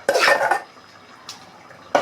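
Chicken and gongura leaves are stirred in a metal pan, with a loud spoon-scraping burst, a softer knock and another scrape near the end, all close and without talk.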